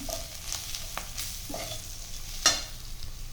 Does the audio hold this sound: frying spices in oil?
yes